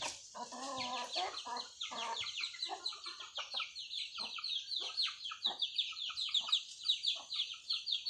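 Chickens cluck in a steady, busy stream, close and fairly loud, with sharp high chirps from other birds layered over them throughout.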